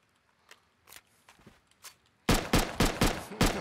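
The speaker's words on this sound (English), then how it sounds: "Shoot the guns." Gunfire in the survival game Rust: a few faint scattered shots at first, then a loud close burst of five or six rapid, evenly spaced gunshots with sharp cracks.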